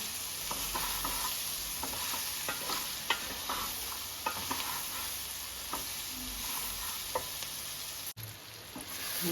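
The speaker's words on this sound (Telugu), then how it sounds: "ఇది మంచిగా మెల్లగా సిమ్లో పెట్టుకొని వేయించుకోవాలి." Shredded cabbage fries on low heat in a pan, with a steady soft sizzle and repeated scraping strokes of a stirring spoon, close and quiet throughout.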